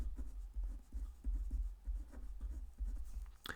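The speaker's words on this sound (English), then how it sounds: "Let me actually just write that down." Algebra is written by hand on paper, producing soft, close scratching strokes in short irregular bursts with small pauses between marks.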